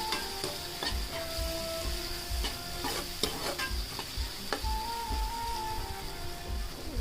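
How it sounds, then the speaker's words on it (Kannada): Onion and tomato fry in oil with turmeric for a mushroom masala, a steady close sizzle under rhythmic spoon stirring and scraping against the pan throughout. "ಈರುಳ್ಳಿ ಟೊಮೊಟೊ ಎಲ್ಲ ಎಣ್ಣೆಲಿ ಚೆನ್ನಾಗಿ ಫ್ರೈ ಆಗಿದೆ"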